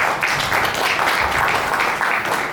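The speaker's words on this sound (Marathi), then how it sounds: "एकदा जरा टाळ्या जोरदार." Loud, continuous applause from an audience at the launch event for the TV serial Saubhagyavati Vrunda Mohan, greeting the actress playing the lead role, steady dense clapping with no gaps.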